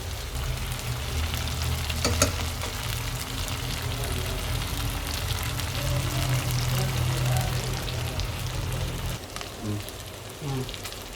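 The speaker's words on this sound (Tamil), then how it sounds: "நம்ம அடுப்பில் போட்டு கிளறி இந்த எண்ணெயிலே இது வேகுது" Mutton pepper chukka fries in oil, a continuous close sizzle with scraping stirs throughout that thins out toward the end, and faint background talk.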